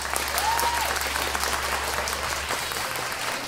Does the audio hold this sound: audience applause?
yes